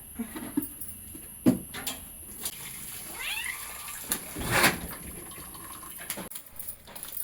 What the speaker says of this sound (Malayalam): മാറു പൂച്ചേ